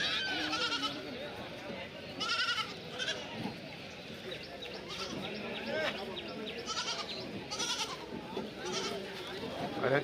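Goats bleat repeatedly at a busy festival goat market in Kerala, several animals calling at irregular intervals, near and far, amid constant crowd chatter and people talking.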